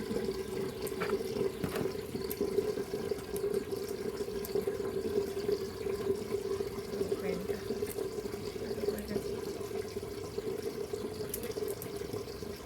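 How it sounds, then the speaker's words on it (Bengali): Tap water runs steadily into a sink while a cloth bag is washed by hand, a continuous close splashing flow with small sloshes and no talk. "আর এই ব্যাগটা যেহেতু আমি নিয়ে গেছিলাম, সেই জন্য একটু কেচে নেবো।"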